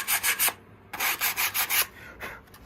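Sandpaper held in the fingers, with no block, rubs across the surface of a car model in quick scratchy back-and-forth strokes, close and distinct, in two bursts separated by a short pause, then lighter strokes trail off.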